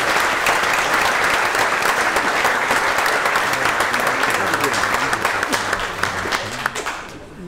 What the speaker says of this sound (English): Another round of applause for Jazzamatazz.